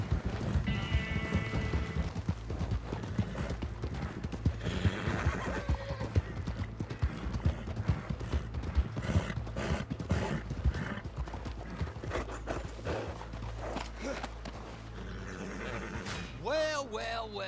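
A horse in Red Dead Online neighs and whinnies while its hooves clip-clop steadily throughout, with a final loud whinny near the end, all under busy ambient game noise.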